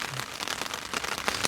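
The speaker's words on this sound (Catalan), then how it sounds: "és el fet del soroll que fan les gotes a la tenda que doncs, ressona una mica, amplifica el soroll" Light rain patters on a tent, heard from inside as a soft, irregular tapping of drops that the fabric slightly amplifies, quiet and continuous with no voices.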